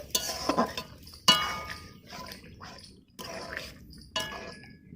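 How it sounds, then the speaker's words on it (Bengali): A metal utensil clangs and scrapes against a pot while a vegetable curry with drumstick flowers is stirred, giving several sharp ringing knocks with softer scraping and sizzling between them. "আবার একটু ভালো করে নাড়াচাড়া করে নিচ্ছি"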